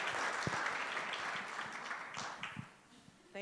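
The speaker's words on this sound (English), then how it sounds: "Let's give this group, this panel, a round of applause." An audience at a regional association's monthly meeting applauds a panel, a round of clapping that starts full and fades out toward the end, with a few voices heard alongside it.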